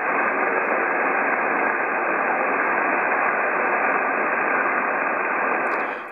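Weak radio station barely audible beneath steady loud static hiss from a ham receiver with an MFJ-1026 noise canceller, continuous for the whole stretch with no clear voice emerging.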